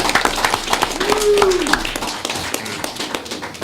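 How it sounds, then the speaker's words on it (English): An audience claps for police officers at a Port Royal town council meeting. The applause is a loose patter of hands that runs steadily through the clip, with a few sharper claps and some voices mixed in. "of applause for the police at the back"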